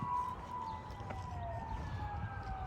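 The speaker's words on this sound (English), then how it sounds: "there are a lot of sirens today" Distant emergency sirens, a fire truck and police car, wail with slowly sliding tones over low outdoor rumble, faint and steady behind a garden where potatoes, peas and corn are being planted.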